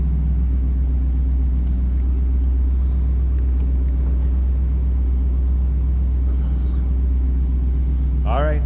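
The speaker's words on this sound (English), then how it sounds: "Nice little rumble coming out of that 390 V8." Idling 390 V8 of a 1961 Ford Thunderbird two-door hardtop, a steady deep low rumble heard up close without a break, with a brief higher squeak near the end.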